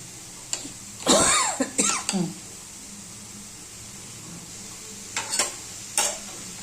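Spatula strokes stir radish bhaji with garlic, onion, green chilli and salt in a pan, coming in a few short scraping bursts with quiet gaps between them and a faint low hum underneath.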